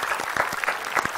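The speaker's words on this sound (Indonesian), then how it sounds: "Tepuk tangan buat Mas Destar." A brief burst of audience clapping at an Indonesian TV talk show, steady and fairly close for just over a second.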